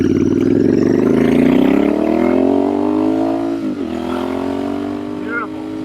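A Royal Enfield Bear 650 motorcycle fitted with a Dustland shotgun exhaust rumbles steadily close by, its engine note sliding upward and then settling as it passes, while someone speaks over it.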